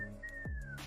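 A single quick whistle blown to get everyone moving: one steady, sustained tone lasting under a second, with a low thud partway through and no talking.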